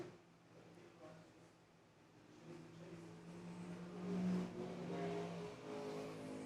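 A drift car slows through an outside zone at a drift competition, engine droning and revving at a distance with a rising, wavering tone and faint tire noise, all at moderate volume.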